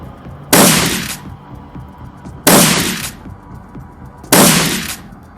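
Gunfire from the video game Shadowrun: Dragonfall rings out in three loud, sharp bursts spaced about two seconds apart, each trailing off in a decaying crackle, with no talk over it.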